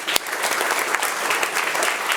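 A crowd at a school board of education meeting gives Estancia High School student Leslie Aguilar a round of applause, steady and fairly close clapping with a sharp clap standing out near the start.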